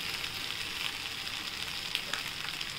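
Roasted poha and corn stir-fried in a pan for upma, a steady soft sizzle with faint scraping stirs, close and alone with no voices.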